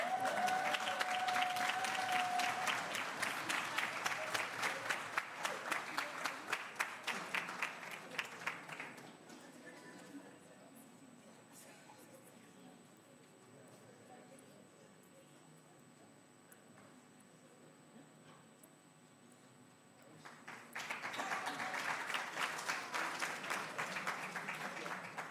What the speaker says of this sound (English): the final round of applause, colleagues